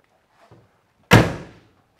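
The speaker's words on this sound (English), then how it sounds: "Both doors open and close without issue." One solid slam of a 1967 Buick GS 400 convertible door lands close and loud after a soft click or two. It thuds heavily and then fades quickly.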